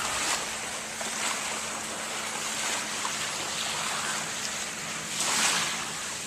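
Waves washing ashore at high tide on Owen Beach in Tacoma, a quiet, steady surf wash with a slightly louder swell near the end, no talking.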